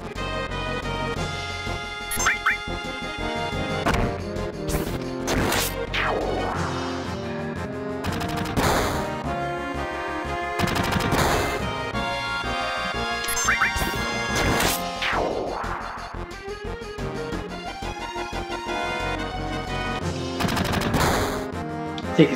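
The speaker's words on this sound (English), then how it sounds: "Taking so many machine gun bullets." Machine gun fire rattles through a Final Fantasy 7 video game battle, with dense rapid bursts of shots, sharp crashes and impacts over a steady game music bed, loud and continuous throughout.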